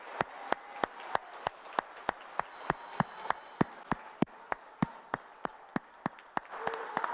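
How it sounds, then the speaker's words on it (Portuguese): Councillors in a Curitiba city council chamber clap in a standing ovation, a steady, evenly spaced rhythm of sharp, distinct claps, moderately close, continuing for several seconds without talk. "a gente aplaudir de pé essas pessoas que vieram aqui hoje e nos apoiaram nessa causa"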